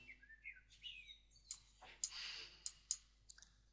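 A computer mouse clicking during Photoshop work: several sharp, crisp clicks spaced irregularly over faint background chirps and tones, quiet and close.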